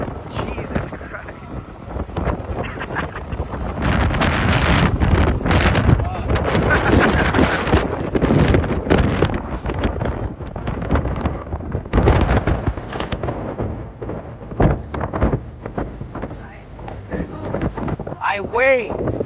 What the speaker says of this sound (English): It's so windy, bro.